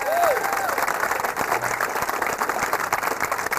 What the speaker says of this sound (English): In 10th position, give a round of applause, please